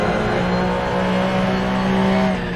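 A race car engine in Assetto Corsa at the Mosport circuit, droning loud and steady with a strong tonal pitch as the car powers on under throttle, with faint tire noise and no talk.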